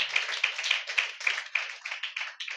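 Audience clapping at a Telugu church gathering, a steady burst of hand claps with a rhythmic, slightly uneven pulse, fairly close and moderately loud, with no talk over it.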